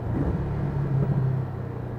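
A Porsche Cayman on a circuit slows under braking, giving a steady low engine rumble with a droning tone that eases and drops slightly toward the end.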